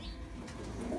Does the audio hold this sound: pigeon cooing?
yes